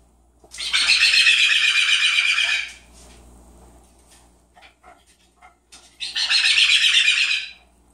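A pet bird gives two loud, harsh, sustained squawking calls, close to the listener, separated by a quieter pause with a few faint clicks and small sounds.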